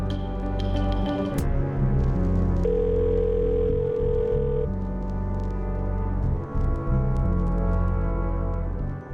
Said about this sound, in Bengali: রিং যাচ্ছে